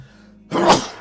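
A single sharp sneeze bursts out after a brief quiet intake, close and loud, with no other sound around it.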